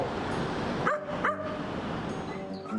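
A pet dog gives two short yelping barks about a second apart over a steady background hum.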